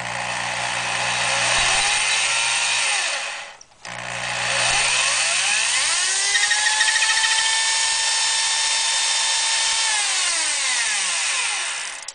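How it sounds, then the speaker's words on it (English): Handheld power drill whirring as it spins a mandrel to coil wire into chainmail rings, a steady motor whine that stops briefly, restarts and runs continuously at close range. "Basically, now I have the drill and I start spinning it."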